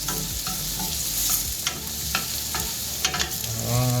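Garlic, onion and tomatoes cook in a pan, a close, lively sizzle broken by spatula scrapes and stirring knocks over a few seconds, with a brief tonal sound near the end.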